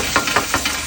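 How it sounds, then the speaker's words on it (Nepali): Chopped onion lands in hot oil in a pan and fries with a close, loud sizzle, broken by several quick stirring scrapes in under a second. "झ्याम्म प्याज हाल्ने"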